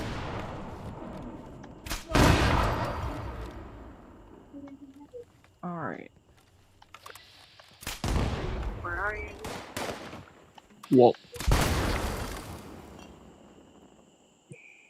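Heavy explosions and bursts of gunfire in the video game Fallout 76, several loud booming blasts spaced apart with sharp shots between them, while a player talks briefly over the action.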